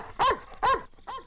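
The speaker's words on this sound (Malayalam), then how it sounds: "പട്ടിയുടെ കുറയല്ലേ കേട്ടത്?" Three sharp dog barks sound close and loud in quick succession, the last one slightly softer, with a brief yelping quality and no talking.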